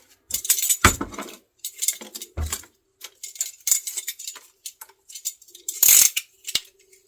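A Streptocarpus stem cut as a cutting: close, crisp snips and clicks in short irregular bursts, with small rustling handling noises between them and brief quiet gaps.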